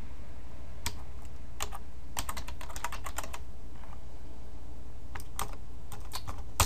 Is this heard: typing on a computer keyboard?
yes